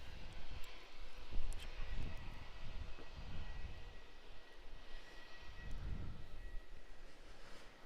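An Emirates Airbus A380 jet at Brisbane Airport, Australia, produces a faint, distant, broad engine roar that swells and fades unevenly over several seconds, with no talking.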